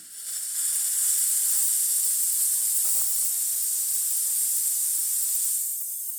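Steam wand on a La Pavoni espresso machine after a service, releasing a loud, steady high-pitched hiss of steam that starts abruptly, holds evenly for several seconds, then eases off; close up with no talk.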